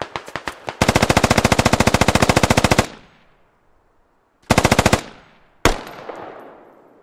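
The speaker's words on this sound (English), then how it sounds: "Captain Cobb shooting underneath a trailer." Video game gunfire, sharp machine-gun bursts in rapid even rhythm, first a long continuous burst then two short ones, loud and close, with ringing gaps of quiet between them.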